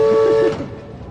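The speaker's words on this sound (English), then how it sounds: "not all river skippers wanted to be recognised by the sounds of their boats and their individual whistles" A Murray River boat's steam whistle in Australia sounds briefly, then cuts off after half a second, leaving its tone fading and echoing away.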